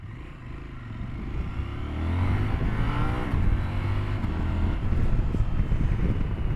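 A CF Moto 1000 MT-X motorcycle engine idles and burbles at low revs during slow-speed maneuvering, a steady close rumble with mild rises, mixed with wind noise.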